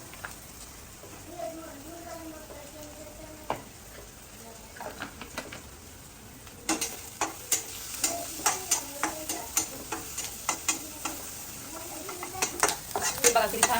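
Onion and green chili fry in a pan with turmeric under a faint sizzle. The spoon clinks softly at first, then scrapes the pan in a quick, steady run of louder taps and strokes.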